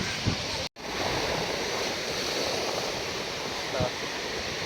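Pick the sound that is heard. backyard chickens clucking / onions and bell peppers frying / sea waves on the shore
sea waves on the shore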